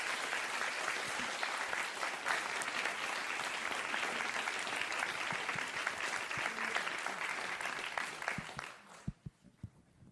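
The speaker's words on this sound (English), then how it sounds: "may I ask for another round of applause, please, for our wonderful panelists" A conference audience applauds its panelists with sustained, dense clapping that fills the room at an even level, then thins abruptly into a few scattered final claps.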